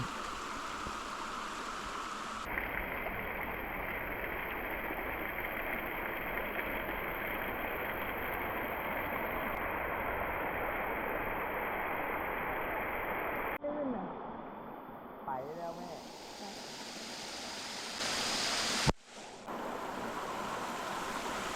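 Steady, broad rushing water noise from the upper tiers of Erawan Waterfall in Kanchanaburi, Thailand, loud and continuous, with a few brief bumps and shifts near the end.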